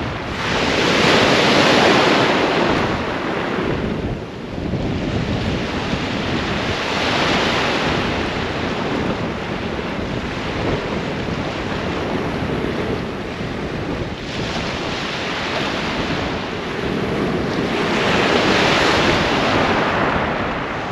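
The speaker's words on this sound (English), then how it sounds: "Wind's chopping up a little bit. It's about 10 miles an hour now." Wind buffeting the microphone over breaking sea waves on a Holderness coast beach, a loud continuous roar with surges of surf rising and falling every few seconds.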